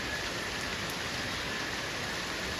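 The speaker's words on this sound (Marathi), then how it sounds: "चांगला धोधो पाऊस येतोय." Heavy downpour at night, a dense, unbroken hiss of rain pouring onto surfaces, steady and fairly loud throughout.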